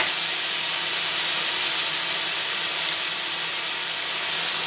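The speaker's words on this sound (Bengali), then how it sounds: "কুচানো রসুন রেখেছি সেই রসুনটাও দিয়ে দিলাম একসঙ্গে দুটো একটু ভেজে নিচ্ছি" Minced garlic, added with onion paste, fries in hot oil, producing a loud, steady, dense hiss of sizzling without pause or talk.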